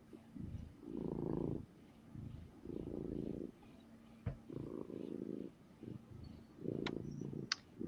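A cat purrs up close in several rumbling bursts with short pauses between them, heard during a beekeepers' chat, with a couple of brief clicks and a faint high tone near the end.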